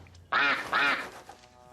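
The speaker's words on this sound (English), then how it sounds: "Please tell me that was the duck." A duck quacks twice in a film scene from The Pacifier, two loud, nasal, close quacks in quick succession, followed by a brief quiet tail.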